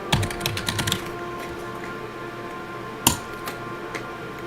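Quick bursts of keystrokes on a computer keyboard, a rapid cluster of clicks at the start, then a single louder tap and a few scattered presses in a quiet room.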